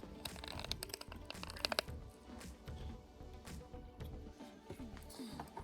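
A used engine oil filter from a CNC-ported Hemi 265 is cut open and spread apart, a run of faint crinkling, crunching and tearing noises with quick clicks at first, then a softer, continuous rustle.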